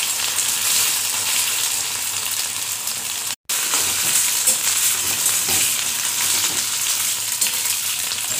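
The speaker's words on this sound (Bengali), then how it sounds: "আলু আর গাটি কচু লাল লাল করে ভাজতে হবে" Parboiled potato and gati kochu taro frying in hot oil, a loud, dense, steady sizzle close up that drops out for a brief instant midway before resuming unchanged.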